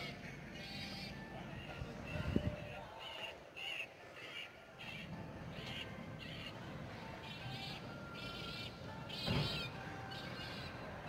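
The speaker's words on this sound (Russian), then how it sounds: "Что-то там чайки сверху горланят." Seagulls call from overhead during a December walk in Yalta, Crimea, their faint, scattered squawks rising over a steady outdoor background of traffic and city noise, with a louder burst late in the clip.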